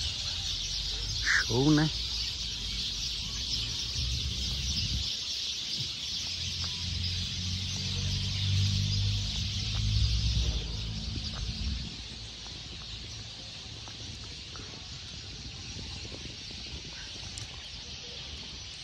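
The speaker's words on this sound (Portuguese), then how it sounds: "Olha que lindo os pássaros. Barulho, pessoal." Birds and chickens calling outdoors near a church in Taciba, São Paulo, a squawk early on, then a wash of high chirping and bird calls with brief talk and a low rumble of background noise.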